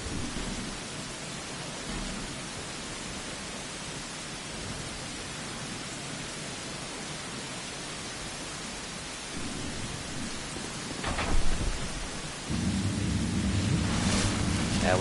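Steady rain hisses down in the video game Dark Souls II, a constant even patter, with a brief low rumble of thunder swelling near the end.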